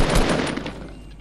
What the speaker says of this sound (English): Oh, they're shooting at us!